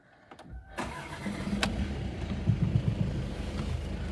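A car engine cranks after a few clicks and catches, then settles into a rumbling idle at close range, with no talk over it.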